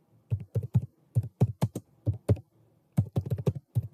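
Keys clack on a computer keyboard as a command is typed at a command prompt, giving close, crisp taps in quick clusters with a short pause midway and no talking.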